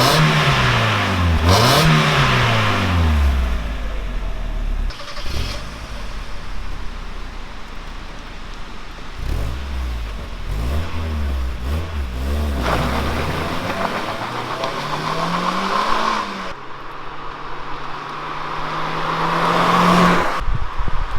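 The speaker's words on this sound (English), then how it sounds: "let's hear what this sounds like with a standard exhaust on it" A Mk1 Mazda MX-5 Miata on its standard exhaust revs repeatedly, engine pitch sweeping up and falling back in several close, loud blips, ending with a sustained higher hold before dropping off.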